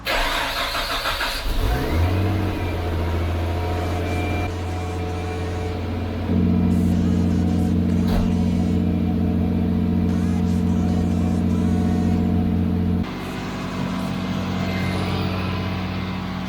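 A Nissan Stagea's RB25DET engine, freshly fitted with a Walbro 460 fuel pump, cranks briefly, catches and settles into a loud steady idle close by, with a sustained rise in revs midway before dropping back to idle.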